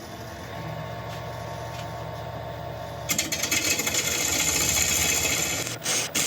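A woodturning tool being sharpened: a low steady hum for about three seconds, then a loud, harsh, continuous grinding rasp that carries on close by to the end.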